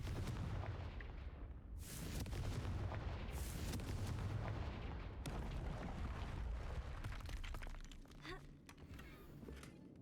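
Confringo blasting spells set off repeated loud explosions in the video game Hogwarts Legacy, heavy booming bursts that roll into one another with dense low rumble and crackling debris, easing off slightly toward the end.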